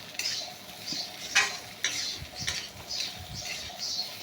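Masala curry with salt frying in a pan, a soft continuous sizzle broken by repeated scraping stirs of a spoon against the pan.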